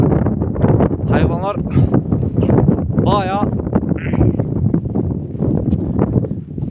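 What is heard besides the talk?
strong wind blowing outdoors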